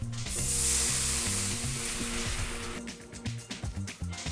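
Balsamic vinegar hits a hot pan to loosen the roasting drippings for a sauce, giving a loud hiss that fades into a softer bubbling sizzle with light stirring.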